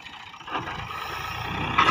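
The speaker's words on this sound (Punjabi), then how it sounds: "ਉਹ ਟਰੈਕਟਰ ਚਲਾ ਰਿਹਾ 480" A 480 tractor driven by a very young boy while levelling soil on a farm plot, its engine running as a steady low rumbling drone with a faint throb, fairly close and without talk.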